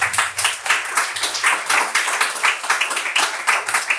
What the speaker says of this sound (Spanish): No sé si quieres darle un aplauso a Dios por eso.